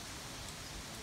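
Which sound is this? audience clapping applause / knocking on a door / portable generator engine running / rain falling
rain falling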